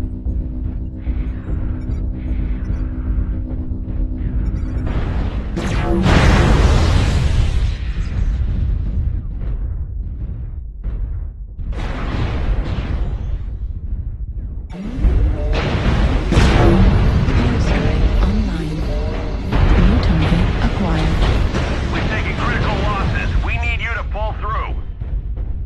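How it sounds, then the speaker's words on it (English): Heavy airstrike explosions in a combat video game, deep booming rumbles rolling in several waves under a continuous low hum, with game voices speaking between blasts. "Airstrike."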